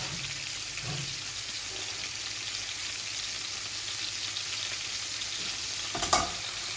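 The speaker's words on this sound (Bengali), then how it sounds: "আমার মাছগুলো আস্তে আস্তে ভাজা হোক" Tilapia fish pieces fry slowly in oil in a home kitchen, giving a soft, steady sizzle throughout with a brief clatter near the end and no talk.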